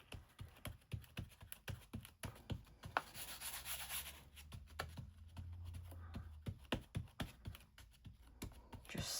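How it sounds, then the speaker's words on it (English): A hand rubs firmly over the back of a turned-over journal page laid on card, pressing it down for good contact. The rubbing comes as a steady run of close, scratchy strokes in a quick repeating rhythm with no speech. "turn that over, and just give that a rub"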